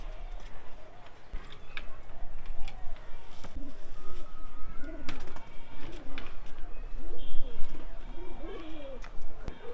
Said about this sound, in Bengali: আমরা খোপ থেকে একটা কবুতর নিয়ে এসেছি এটা হচ্ছে মেল